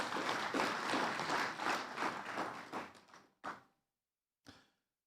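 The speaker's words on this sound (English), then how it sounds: "Please appreciate them with another big round of applause." An audience at a formal ceremony claps in a round of applause that thins out over a few seconds and ends in a couple of isolated final claps.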